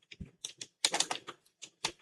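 Keys clatter on a computer keyboard in short, uneven bursts of clicks, close and fairly soft, with brief pauses between clusters of strokes.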